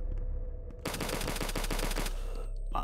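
Akimbo pistols firing in the retro shooter HROT, a rapid burst of about a dozen sharp shots in quick rhythm lasting over a second, loud and close, with game ambience before and after.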